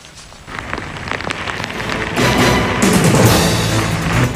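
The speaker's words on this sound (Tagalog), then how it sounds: "mas mahina na nga ngayon ang buhos ng ulan at hagupit ng hangin dito sa Dingalan, Aurora" Heavy typhoon rain and gusting wind during Typhoon Santi's landfall in Dingalan, Aurora, a steady hiss of downpour that swells louder partway through, with no voices.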